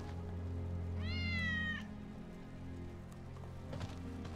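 A cat meows in Final Fantasy VII Remake: one clear, drawn-out meow over a steady low hum and a soft rain-like hiss in the background.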